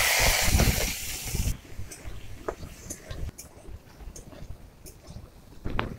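Soaked dried peas hit hot oil with a loud burst of hissing sizzle that cuts off after about a second and a half, followed by quieter crackles and occasional clicks in a home kitchen.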